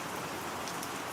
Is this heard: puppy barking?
no